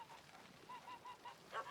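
A goose in The Witcher 3: Blood & Wine gives a string of short, nasal honks at a steady pace, faint and set against a quiet game backdrop, with one louder, harsher honk near the end.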